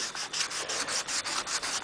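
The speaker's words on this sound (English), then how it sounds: "Just sand them till the darkness of the sanding goes away." Rhythmic back-and-forth rubbing of a soft foam sanding block on the curves of a 1966 Pontiac GTO, close and steady, about six strokes per second.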